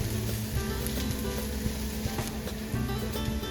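Onions and green chillies for an egg masala curry sauté in a hot pan, a dense continuous sizzle with occasional soft clinks and scrapes of stirring, close and fairly loud.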